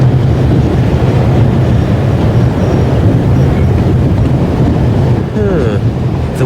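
A train moving in The Raven: Legacy of a Master Thief, a steady loud rumble with rushing wind and low rolling noise throughout, near and continuous.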